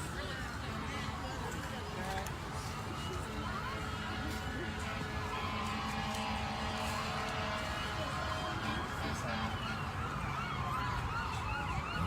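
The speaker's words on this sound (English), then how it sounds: "Excuse me, fire trucks coming through, so it's going to have a lot of first responders going to do their job. So excuse the ambulance and stuff." Emergency sirens wail and sweep as fire trucks and ambulances pass along Poplar Street in Memphis during a street walk, steady and loud over crowd noise and traffic, with people talking throughout.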